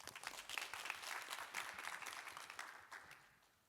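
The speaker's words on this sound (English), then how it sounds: "One more round of applause, thank you." An audience claps together in warm applause after a talk at an academic paper session, a dense patter of hands swelling quickly and then tapering away toward the end.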